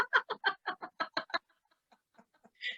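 Cartoon-style chicken clucking: a quick run of about eight loud, evenly spaced clucks, then a few faint scattered peeps and one final higher squawk, with no talking.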